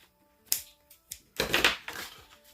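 Scissors snip away excess paper from a journal pocket, a few sharp crisp cuts followed by a longer rustling crunch of paper, close and quiet.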